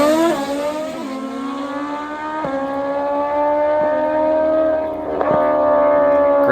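A stretched, nitrous-fed Kawasaki drag bike screams loudly close by, its engine note climbing in long revving sweeps with abrupt gear-change drops, racing hard with no talk over it.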